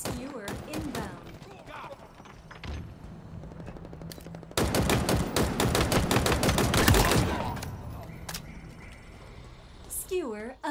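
Rapid automatic gunfire from a Halo Infinite multiplayer match, with bursts of shots through the first seconds, then a dense sustained stretch of heavy firing in the middle, with game voice announcements around it.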